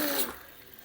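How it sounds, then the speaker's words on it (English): Tap water runs into a container holding beans set to soak, a brief close rushing pour that cuts off and fades within a second, with no talking. "Let me put some water in here."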